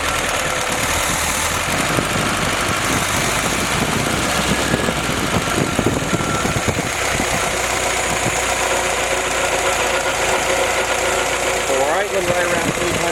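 A Willys F-head engine fitted with a Weber carburetor and Rockford PTO runs at a steady idle close by, a loud continuous knocking rumble with mechanical clatter, and a voice talks over it.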